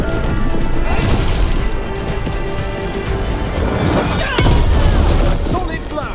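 A heavy melee blow lands in Dragon Age The Veilguard, a loud crashing thwack within dense combat noise, with a second sharp impact near the end and voices faintly under the din.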